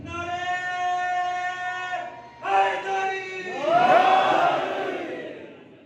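A crowd at a Muharram majlis chants the religious slogans Nara-e-Takbeer and Nara-e-Risalat, with loud, sustained collective voices that rise in waves, break briefly, then surge again with some overlapping calls.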